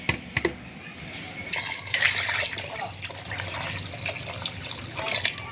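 Two jugs of water poured into a pot of beef paya with chopped onion, a close, continuous splashing and trickling fill with a few handling knocks, no talking.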